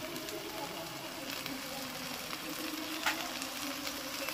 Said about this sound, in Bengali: এটাকে ভালো করে যতক্ষণ না তেল থাকে কষিয়ে নেব